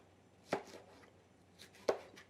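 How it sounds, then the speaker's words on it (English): A knife slicing a yellow pepper into strips on a cutting board, two sharp, distinct chops about a second and a half apart in an otherwise quiet kitchen. "I'm just going to cut this down into strips because my pepper is long"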